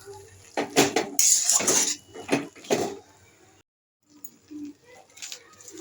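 Cheesy Maggi noodles topped with grated cheese are stirred in a pan, with a utensil clattering and scraping against the metal in short bursts, a brief pause, then softer clinks.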